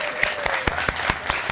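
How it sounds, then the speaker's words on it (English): Audience applause at a World Food Day celebration event, a steady patter of clapping hands filling the room with sharper individual claps standing out. "Please, more applause for Marion Nestle."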